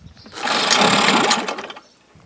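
A Mercury 7.5 or 9.8 hp two-stroke outboard motor is started on the shop bench. Nearby it gives a buzzing, rattling burst that holds for about a second, then fades and dies out.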